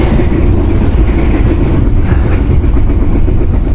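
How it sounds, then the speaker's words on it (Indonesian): Loud, close rumble of a passenger train rolling on rails near Bekasi station, heard from inside an executive-class carriage, a steady heavy roar with faint rhythmic clatter beneath, continuous throughout. "Perjalanan kereta api Manahan sudah hampir masuk stasiun Bekasi"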